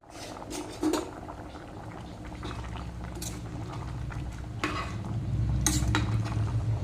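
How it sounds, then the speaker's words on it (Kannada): Jackfruit seed curry is bubbling at a boil in a pot, with a soft steady simmer and a few clinks of a spoon against the pot, no voices. "ನೋಡಿ ಇವಾಗ ಪದಾರ್ಥ ಕೂಡ ಚೆನ್ನಾಗಿ ಕುದೀತಾ ಇದೆ"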